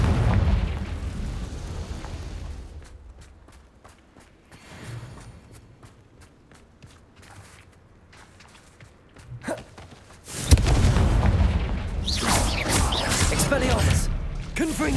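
Confringo fire-blast spell explosions in Hogwarts Legacy, with a loud roaring burst that swells near the end after a stretch of quieter crackling and ticking, and a voice heard faintly in places.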